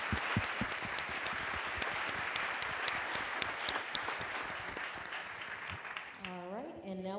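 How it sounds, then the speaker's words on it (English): Loud, dense applause from a crowd at a NASA media event revealing the OSIRIS-REx asteroid sample, sustained for several seconds before a voice begins speaking at the end. "I do want a round of applause for the flight dynamics team"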